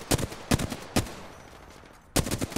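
Gunfire in the Apex Legends battle royale game: four sharp, loud shots spaced irregularly, the last one a quick double burst, with quiet ambient game noise between them.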